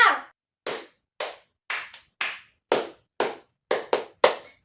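A grade 1 class claps together in a rhythmic cheer, about a dozen sharp, close hand claps in an uneven pattern with brief pauses and a few quick doubled claps.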